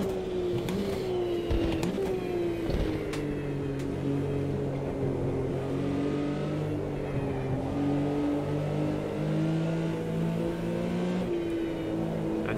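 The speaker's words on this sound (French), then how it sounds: "Je sais pas si c'est le bruit typique d'une Porsche" An old Porsche 911 in the racing game AMS 2, its engine droning steadily near the microphone and swelling and easing through the revs, with no voices over it.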